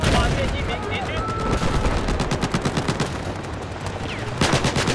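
Rapid automatic gunfire in the Battlefield 4 beta on the Siege of Shanghai map, dense rattling bursts close up with explosions and chatter mixed in, a voice faintly under the shooting.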